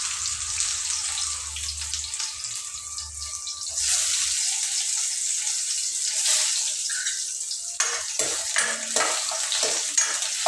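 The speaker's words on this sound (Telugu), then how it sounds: "ఆయిల్ వేసినాక ఉల్లిపాయలు వేస్తున్నాను." Sliced onions go into hot oil for a home-style Telugu amaranth leaf curry. A low hum gives way to a soft, steady sizzle with a few sharper clatters near the end.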